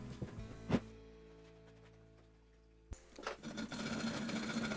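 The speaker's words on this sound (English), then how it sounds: "A great tip for removing forms from concrete is just using some compressed air." Compressed air blasts a concrete fire bowl loose from its form: after a sharp knock, a steady, close, broadband hiss of rushing air rises and continues to the end, following a quiet stretch.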